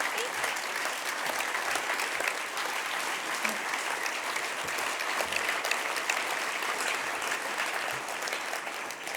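Steady applause from an audience at a Brissy4Ward 2019 community event as a speaker walks off the stage, dense and even throughout with no pauses.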